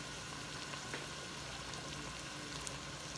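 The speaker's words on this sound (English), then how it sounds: "while that's sauteing" Ingredients sautéing in a pot for Jamaican seasoned pumpkin rice, a steady soft sizzle that holds at an even, fairly faint level for the whole stretch, with no talking.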